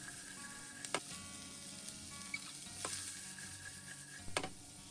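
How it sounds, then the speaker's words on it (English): Sweet potatoes, mushrooms, onions and jalapeno sautéing in a De Meyer 12-inch sauté pan, a soft steady sizzle broken by a few sharp scraping clicks of stirring, fairly quiet with no talking. "in this De Meyer 12-inch sauté pan and start by sautéing the sweet potatoes"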